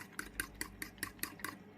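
A utensil whisking batter for flourless crepes in a bowl, seven evenly spaced clinking strokes in a steady rhythm, quiet and close, with no talking.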